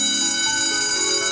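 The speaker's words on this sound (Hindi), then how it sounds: "घंटी बज गई है" A school bell rings loud and steady, one continuous metallic electric ring filling the short moment alone.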